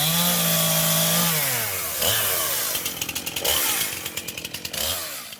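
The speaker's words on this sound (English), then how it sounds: "That now familiar sound of chainsaws is something most of us have become quite accustomed to over the last few days." Chainsaws cutting through storm-felled tree wood, a loud close engine rising and falling in pitch as the blades bite, with bursts of rapid rattling chatter from the chain.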